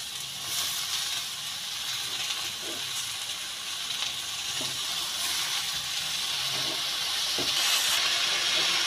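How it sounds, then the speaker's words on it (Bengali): Water spinach is tossed into fried potato and brinjal in a hot pan, producing a steady, close hissing sizzle with occasional soft knocks from stirring, growing slightly louder toward the end. "এবার কলমি শাকগুলো এই আলু বেগুনের সাথে আমি মিশিয়ে দেবো।"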